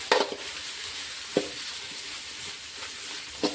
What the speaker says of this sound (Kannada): ಇದನ್ನು ಒಂದು ಸ್ವಲ್ಪ ಹೊತ್ತು ನಾವು ತಿರೋಣ, ಎಲ್ಲ ಮಿಕ್ಸ್ ಆಗಂಗೆ ತಿರುವಿ ತೊಗೊಳ್ಳೋಣ.